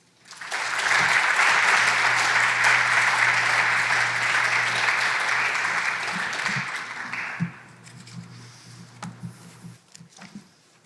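A lecture-hall audience applauds to welcome a professor before an archaeology lecture on Jerusalem in the 7th century BCE. Dense, steady clapping fills most of the clip, then thins into a few scattered claps at the end.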